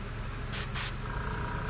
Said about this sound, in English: Well, this is a single action airbrush.